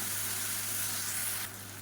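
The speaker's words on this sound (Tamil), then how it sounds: "எண்ணெயில் போட்டு வதக்கையில்" Dried fenugreek leaves frying in oil for a black chana dal curry, giving a steady, bright sizzle that drops a little in loudness near the end.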